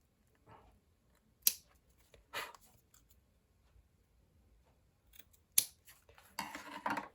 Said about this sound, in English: A little bit of trimming now.